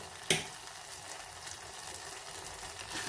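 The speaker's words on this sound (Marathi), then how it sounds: "सांबार मसाला घालूया तो पण याच्याबरोबर थोडासा परतायचा" Sambar masala sautéed in hot oil tempering, a soft, faint sizzle running throughout after a brief clink near the start.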